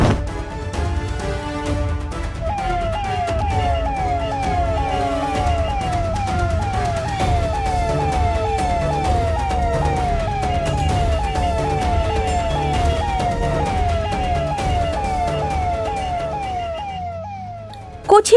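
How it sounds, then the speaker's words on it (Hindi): A cartoon ambulance siren wails in a steady repeating two-tone sweep for most of the stretch, loud over a busy rumbling background of music and effects, then cuts off near the end. "कुछ ही समय में ममता विवान को एम्बुलेंस में हॉस्पिटल लाती है।"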